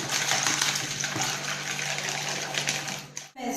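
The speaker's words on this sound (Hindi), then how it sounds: "अराउंड 1 कप आप पानी इसमें ऐड करें।" Water poured into a cornflour and maida batter mixture while preparing a prawn dish, a steady close-up pouring and splashing rush lasting several seconds, cutting off abruptly at the end.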